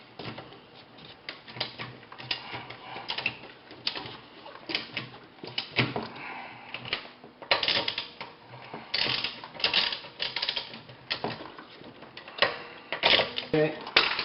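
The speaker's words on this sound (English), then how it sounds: "then you want to torque them down" A ratchet tightens the rear wheel bolts on a Volkswagen MK4/MK5 during a brake pad job, rapid clicking pawl bursts in uneven runs, close and fairly loud, with short pauses between bolts.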